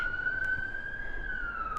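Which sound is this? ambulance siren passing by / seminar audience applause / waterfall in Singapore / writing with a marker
ambulance siren passing by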